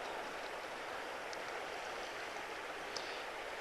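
Water swirling steadily in a gold pan as it is rotated down to black sand, a continuous soft rushing wash with no breaks.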